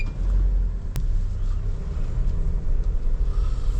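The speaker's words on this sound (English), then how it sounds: "So we're now driving over loose sand." A 2022 Nissan Terra VL 4x4 drives over loose sand, its engine and tyres making a steady low rumble that stays close and even throughout, with one brief sharp tick partway through.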